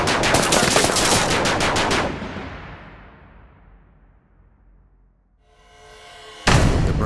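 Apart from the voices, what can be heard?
Spitfire's Browning machine guns firing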